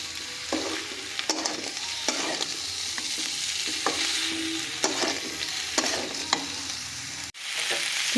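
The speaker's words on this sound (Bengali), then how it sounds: "চিচিংয়েটাকে নাড়াচাড়া করতে অল্প অল্প কমে আসছে" Ridge gourd (chichinga) fries and sizzles in spices in a pan while a spatula stirs it, producing a continuous hiss broken by periodic scraping strokes and one sharp knock near the end, close and with no talk.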